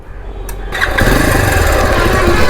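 Bajaj Pulsar 220 motorcycle engine cranking and firing up, a brief starter whir followed by the engine catching and settling into a loud, close, steady rumble.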